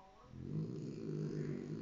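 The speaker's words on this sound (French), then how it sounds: "Et voilà, ça va grogner." A dog growls with a low, steady rumble, quiet and close, while being taken toward a shower. No one speaks over it.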